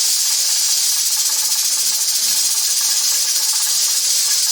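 Ground venison and onions sizzle steadily while browning in a pan, a loud, even, hissing crackle that holds without pause, with no talking.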